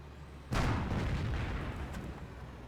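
A sudden heavy blast of gunfire and artillery from the WWII strategy game Company of Heroes erupts, then rolls on as a dense, rumbling roar that slowly fades.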